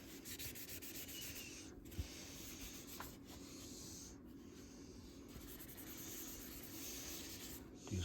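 A wooden knife handle of bird's eye maple for a Scandinavian-style puukko is rubbed and sanded, a continuous close scratchy rasp in steady back-and-forth strokes, with brief pauses between passes.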